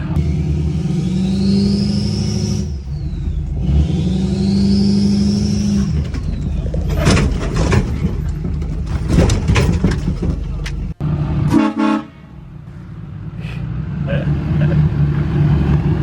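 A Dodge 2nd Gen Cummins diesel pickup is driven off a trailer without ramps. A loud engine rumble and revving fill the clip, with a jolting drop partway through and people's voices mixed in.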